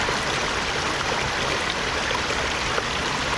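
Water splashes and runs in a steady rushing wash as a found bottle is rinsed while mudlarking, continuous and close with no speech.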